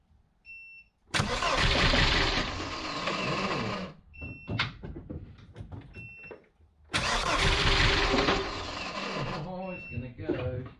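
A Vauxhall Cavalier under restoration, its fuel pump just primed, cranks with a loud, rapid churning that stops and then starts again, the engine catching and running unevenly near the mic.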